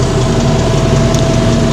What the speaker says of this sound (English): She's going into that pump driven by the PTO on the back of the tractor.